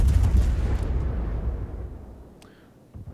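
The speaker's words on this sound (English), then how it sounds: "he manages to put it out just as a bunch of torpedoes hit him" Torpedoes striking a ship in the World of Warships naval game: a loud close explosion boom that rumbles and slowly fades, followed by a faint hiss and a smaller thud at the end.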